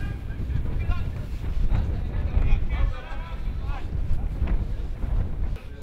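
Blustery wind buffets the microphone at an outdoor football match between Whitehill Welfare and East Kilbride, a steady rumbling roar throughout under a commentator's voice.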